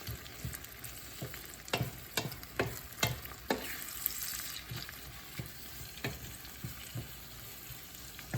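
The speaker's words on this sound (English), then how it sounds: "while adding our egg, we need to stir it like this" Egg frying with bitter gourd in a pan, a steady soft sizzle broken by repeated sharp scrapes and taps of a utensil stirring, fairly quiet and close with no voices.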